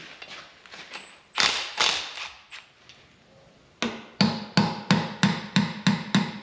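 A wrench loosens a bolt with a few scattered metallic clicks, then a quick run of evenly spaced ratcheting knocks, close and moderately loud with no talking.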